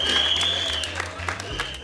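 Audience applause with scattered clapping, steady and fairly loud throughout, over a musical tone and some background voices.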